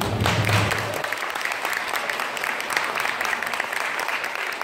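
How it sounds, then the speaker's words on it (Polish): Applause fills a Christmas carol concert hall after a performance by young school pupils, a steady dense wash of clapping from a large audience with a brief low hum at the start. "Wielkie brawa dla Was."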